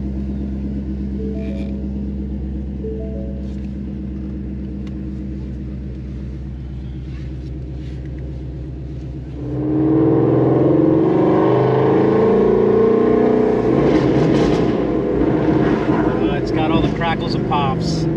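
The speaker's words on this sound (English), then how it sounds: "Let's hear what this thing sounds like" A 2019 Shelby GT350 rated at 600 hp idles with a low steady rumble, then revs up sharply partway through and holds a loud, harsh roar until the end.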